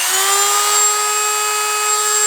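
A Dremel rotary tool spins at high speed while polishing a penny, giving a steady, loud, high-pitched whine with an even tone and no voices.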